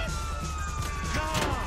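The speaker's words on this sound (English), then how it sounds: "Here's a police car then." A police car in Grand Theft Auto V, heard as a siren that rises and falls in wavering tones over a dense, loud game mix, lasting just under two seconds.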